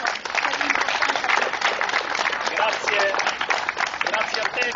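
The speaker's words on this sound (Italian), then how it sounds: "noi ti ringraziamo con un applauso per l'importanza" An outdoor crowd in a city square applauds at a memorial event for Paolo Borsellino, a dense, steady patter of clapping with voices murmuring underneath.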